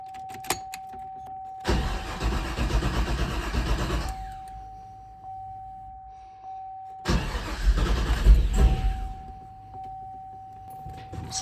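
A 2004 Cadillac CTS-V with freshly swapped cams cranks and fires twice in succession, each start a loud burst of engine noise settling briefly before cutting off, with a steady electronic chime running underneath.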